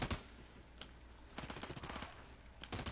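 Rapid bursts of automatic gunfire in the video game America's Army, clustered volleys of sharp cracks broken by short gaps, some shots close and loud, others more distant, with no voices.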